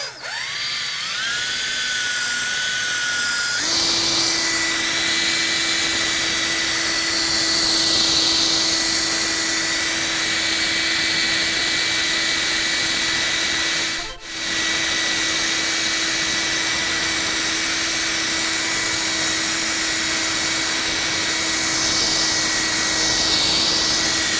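A high-speed drill polisher with a foam pad runs continuously at close range for scratch removal on car paint, a loud steady whine with a brief dip in speed partway through.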